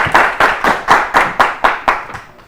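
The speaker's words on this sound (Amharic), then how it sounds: "እሺ፣ አጨብጭቡላቸው።" Audience applause on a children's TV quiz show, a crisp run of about nine evenly spaced, loud claps that slow slightly and fade at the end, with no voices over them.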